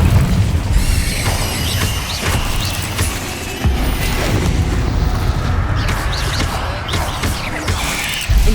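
Incendio fire spells cast in Hogwarts Legacy, heard as a loud, continuous churn of booming blasts and crackling impacts layered close together with no pauses.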